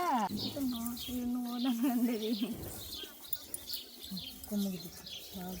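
Sparrows chirp and tweet in quick bursts, fairly close, with some voices and background noise mixed in.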